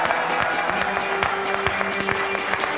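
A studio audience on a sports club talk show in Armenia claps to welcome a radio host as a guest, a dense, sustained round of applause with sharp individual claps scattered through it.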